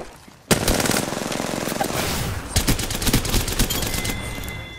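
Rapid automatic gunfire from an online shooter video game bursts in after a brief quiet start, with dense, sustained volleys and a few sharper single shots, loud and close throughout.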